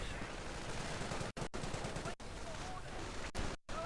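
Video game machine gun fire in a multiplayer match, dense rapid bursts with short gaps, joined by a commentator's voice.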